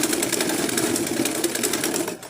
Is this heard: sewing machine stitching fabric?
yes